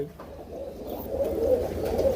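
Racing pigeons coo softly in a loft. The low, throaty calls repeat and swell in the second half, with a faint chirp heard high above them.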